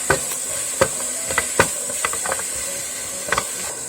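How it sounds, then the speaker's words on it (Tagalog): Onions with a tablespoon of minced garlic stirred and sautéed in a pan for a soft tofu stew, a steady sizzle under a series of sharp spoon scrapes and taps, close and fairly loud. "So this is 1 tablespoon of minced garlic. And haluin lang natin siya."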